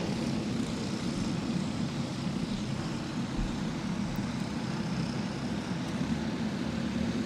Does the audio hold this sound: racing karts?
yes